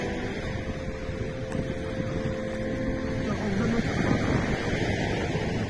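Wind blows hard at the seaside during a fishing outing, a steady rushing roar with buffeting gusts against the microphone and a faint engine-like drone underneath.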